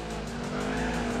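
Tires skid and squeal as a Ford Mustang slides into slight oversteer in Gran Turismo 4, a steady engine drone with a rising squeal of rubber, loud and continuous.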